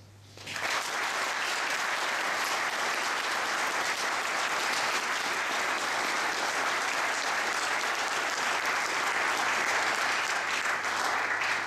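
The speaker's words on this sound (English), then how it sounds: "allow all the recipients one last round of applause" Sustained applause from a large audience at an awards presentation for cadets and armed forces, steady and dense clapping that fills the hall for about eleven seconds without a break.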